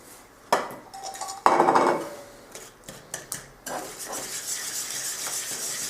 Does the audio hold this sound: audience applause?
no